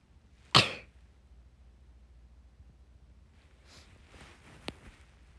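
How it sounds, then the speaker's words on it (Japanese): A single sharp sneeze from a young woman with allergy-prone skin and eyes, one close, loud burst in an otherwise quiet indoor space, followed later by faint rustling and a small click. "ワンくしゃみ、"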